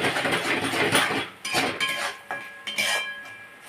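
A spoon stirs curd into a spice mix in a pot, giving scraping clinks against the metal in irregular bursts, fairly close and clear with no voices.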